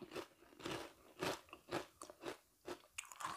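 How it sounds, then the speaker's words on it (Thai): Crispy fried fish skin bitten and crunched close up, a run of about eight loud, sharp crunching bites at a steady pace with no talking. "เดี๋ยวเราจะชิมหนังปลาให้ดูก่อนเลย กรอบมากค่ะ"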